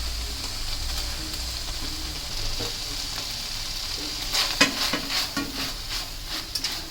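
Drumstick leaf stir-fry with grated coconut is stirred in a pan over a gas flame, steady sizzling under scraping spatula strokes that grow busier toward the end, close and fairly loud, with no talking.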